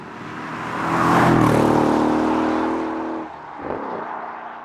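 A Mercedes-Benz CLS63 S AMG Shooting Brake with its 5.5-litre M157 engine swells past nearby, loud and droning, then fades and shifts pitch as it moves off, with no talk.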